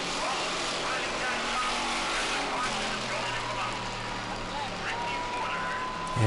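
Stock cars roaring around the track at a restart late in the race, a sustained engine drone with passing whines over crowd and announcer-style talk.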